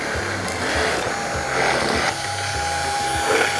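Children's woodworking machine drilling a hole, a steady mechanical whir of a small motor running continuously with stepped pitch changes, close and fairly loud, with no talk.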